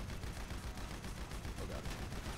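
Steady stream of gunfire in GTA 5 Online, rapid shots packed into a continuous dense rattle at close range, with no clear pauses across the stretch.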